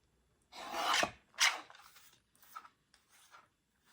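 A small Fiskars paper trimmer slices through paper in a few short, raspy strokes, one long cut followed by quicker, fainter passes, close by with no talking.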